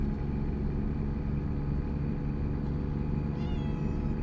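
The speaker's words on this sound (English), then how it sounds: "I have a cat begging for my attention here" A pet cat gives a clear, close meow near the end, rising in pitch, heard over the continuous low engine drone of a truck in American Truck Simulator.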